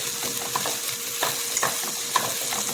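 Curry leaves are stirred into a Kerala-style chicken roast in a pan, giving a steady sizzle and frying hiss with soft scraping stir strokes, close and continuous without speech.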